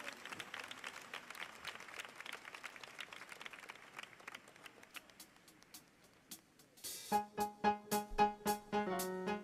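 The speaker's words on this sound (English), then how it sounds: "Can we clap our hands as the band gets ready?" An audience at a choir centennial celebration claps scattered, uneven beats, then a band starts playing with rhythmic pulses over the last few seconds.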